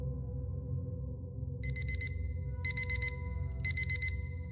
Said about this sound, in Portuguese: De manhã fui acordado pelo meu pontual despertador